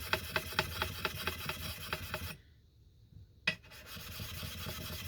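A Craftsman axe edge being filed with a hand file, close rhythmic rasping strokes for about two seconds, then a pause and one final scrape.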